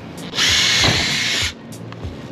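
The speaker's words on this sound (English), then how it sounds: "Now, going to pre-drill a few of the holes." A cordless power drill with a narrow bit bores pilot holes for screws while a Maxx Air roof fan goes into a camper van, giving one steady whirring burst of about a second that stops abruptly, close and loud.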